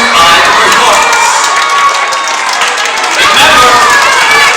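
An audience cheering and applauding a student storytelling and dance performance, a loud dense wash of claps, shouts and children's voices filling the hall continuously from start to finish.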